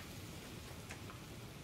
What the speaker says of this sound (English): Oh, it's raining really hard.